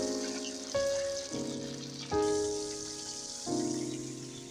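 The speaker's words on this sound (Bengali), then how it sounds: "এখানে আমি মাছগুলোকে মশলা মাখিয়ে রেখেছিলাম, ওইটা আমি এখন ভেজে নিব।" Spiced fish frying in a pan (kadai) in a home kitchen, a soft continuous sizzle that swells briefly as pieces are added, heard beneath distinct clinking tones from metal utensils.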